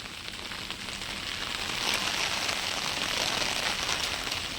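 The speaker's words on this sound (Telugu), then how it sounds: "కంటిన్యూగా వర్షం కంటిన్యూగా" Steady storm rain pours down continuously onto a backyard garden, a dense hiss of drops striking surfaces, rising slightly partway through and holding without pause.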